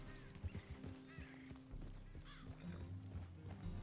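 Hooves of a horse in the video game Red Dead Redemption 2 clip-clop in a steady gait with a brief whinny, close and clear, mixed with game ambience and no voices.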